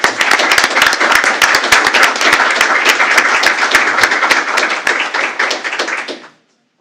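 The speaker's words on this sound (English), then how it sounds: "let's recognize what an incredible achievement with a big round of applause" A school board meeting audience gives a choir a round of applause, close and loud, with distinct sharp individual claps standing out from the group before it stops abruptly.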